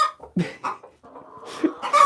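A hen clucks repeatedly up close, a series of short throaty clucks and a drawn-out cackle, loud and alone.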